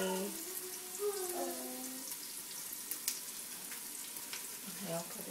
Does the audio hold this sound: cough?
no